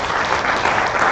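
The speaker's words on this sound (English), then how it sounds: "Please, let's give them a round of applause." A seminar audience at an environment, health and safety event gives a round of applause, dense, even clapping held at a steady loud level throughout.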